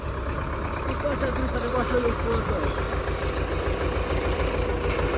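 An MTZ tractor engine turns over and settles into a steady, loud idle, a continuous low rumble that fills the whole stretch, with a person talking over it.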